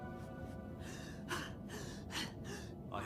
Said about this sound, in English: that's why I'm breathing heavy